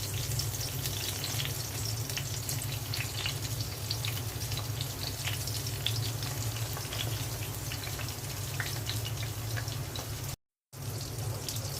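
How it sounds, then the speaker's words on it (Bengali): Spice-coated eggplant slices fry in hot oil with a steady, dense sizzle and crackle close by, continuous throughout with one brief dropout near the end and no talking. "প্রথমে বেগুনগুলো ভেজে নিব।"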